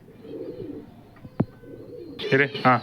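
Gerva hen and Katangu cock pigeons cooing in a loft of old bloodline birds, soft low coos under a murmur of background talk, then two louder close coos near the end after a brief sharp knock.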